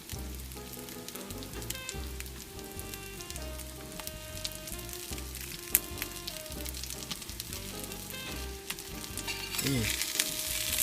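Polish kotlety mielone meat patties fry in a pan with a steady low crackling sizzle and scattered pops, continuous and close, with no talking.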